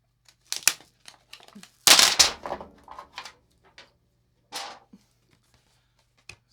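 Adhesive back panel of a reMarkable 2 tablet being pried off with a plastic ruler: sharp intermittent crackles and peeling snaps, one louder tearing burst, separated by quiet gaps.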